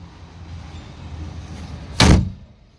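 A Lada Niva car door is shut once with a single sharp, solid slam near the end, preceded by quiet background hum and followed by a brief decay.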